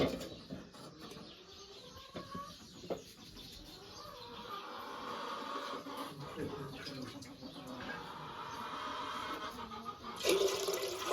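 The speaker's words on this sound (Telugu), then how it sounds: "ముందుగా మనం గ్యాస్లో తపల పెట్టి వాటర్ వేసుకుందామండి" Water is poured into a metal pot on a gas stove, a continuous gushing splash with a louder surge near the end, and faint bird calls in the background.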